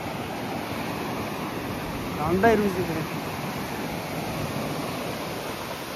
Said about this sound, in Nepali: पानीको छालहरू आउँदैछ